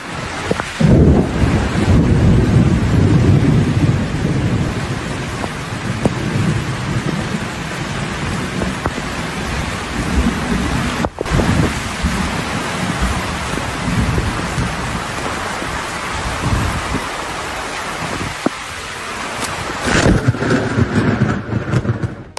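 Thunder from lightning strikes rolls over steady heavy rain on open water during a fishing trip, with a loud crack near the start and sustained rumbling and downpour throughout.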